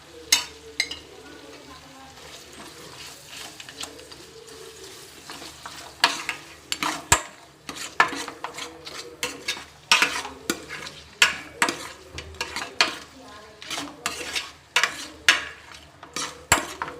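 Ginger-garlic paste sizzles in hot oil in a pan while a spoon stirs and scrapes it, giving repeated sharp metallic clatters over a steady frying hiss, close and fairly loud.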